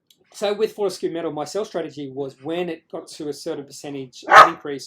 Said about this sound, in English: My dogs are playing now. You can hear them in the background.